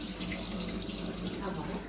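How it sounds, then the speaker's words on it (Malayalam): Tap water runs steadily into a kitchen sink while raw country chicken is washed for a homestyle curry, a soft, continuous splashing stream that is close but fairly quiet. "അപ്പൊ ഇങ്ങനെയാണ് നമ്മൾ കോഴിനെ കഴുകുന്നത്."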